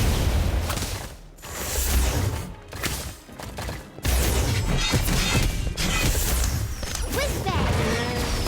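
A Confringo blasting spell cast in the Harry Potter Magic Awakened game bursts out as a dense, loud crash of crackling, mechanical clatter and whooshing effects, repeated in waves across the stretch alongside game music.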